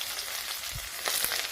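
Onion frying in hot oil, a steady close sizzle with a few louder spits and crackles near the end, no talk over it.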